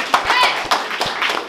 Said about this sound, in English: Clap your hands for J1